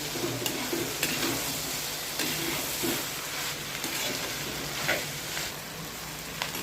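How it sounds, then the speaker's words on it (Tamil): Vegetables and meal maker sautéing in a clay pot, a steady soft sizzle with scattered stirring scrapes and light clicks, close and continuous with no talking. "மீல் மேக்கர் போட்டுட்டேன். நல்லா வதங்கணும்."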